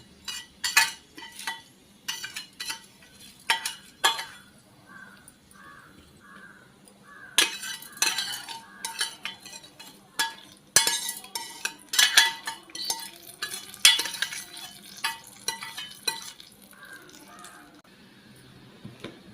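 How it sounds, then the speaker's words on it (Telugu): A spoon stirring fried tempering into brinjal curd chutney, with scattered clinks and scrapes against a steel bowl in short bursts separated by quiet pauses. "ఇప్పుడు దీన్ని ఒకసారి ఇలా కలుపుకోవాలన్నమాట"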